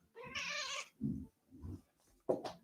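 A nervous cat lets out a drawn-out, wavering caterwaul, then several shorter low meows and a sharp final yowl, close and fairly loud with brief pauses between calls.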